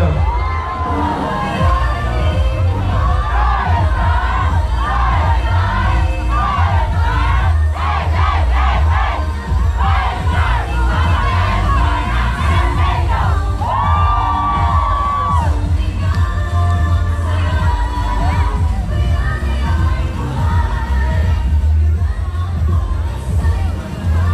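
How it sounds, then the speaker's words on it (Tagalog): A loud crowd cheers and shouts at the Calambagong Buhayani Festival grand parade 2024, a continuous roar of many voices and whoops that stays dense and close throughout. "isang malakas na hiyawan naman po from the Royal Star"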